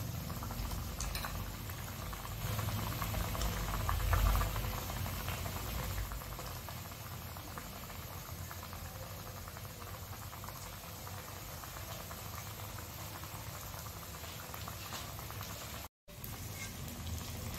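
Besan vada frying in hot oil, a steady dense sizzle and bubbling that continues evenly throughout at close range, with no talking.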